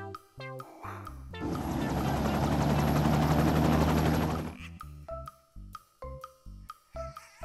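A yellow toy helicopter gives a loud, dense whirring rattle that holds steady for about three seconds, framed by short, bright musical notes before and after.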